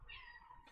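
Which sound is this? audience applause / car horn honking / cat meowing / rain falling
cat meowing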